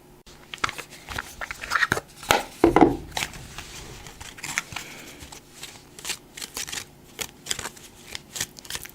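Oracle cards are shuffled close by in continuous papery riffles and slides, with a few sharper snaps and thumps in the middle, and no talking.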